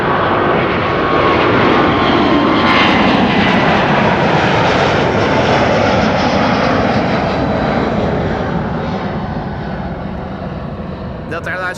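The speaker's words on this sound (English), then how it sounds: "Delta Airlines Flight 73 to Atlanta, Georgia" A Delta Airlines jet departs Amsterdam Schiphol, its engines a loud, broad continuous roar that slowly fades as the aircraft climbs away.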